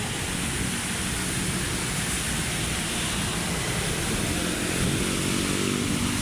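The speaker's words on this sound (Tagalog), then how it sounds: "It's raining today." Steady rain falls at Manila Bay as a dense, unbroken hiss that stays loud and constant throughout, with no talking.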